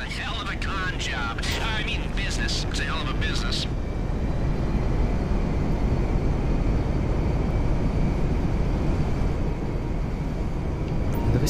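A Russian airplane flies in the video game GTA Online, its engine a loud, steady roar lasting throughout, with someone talking over the first few seconds.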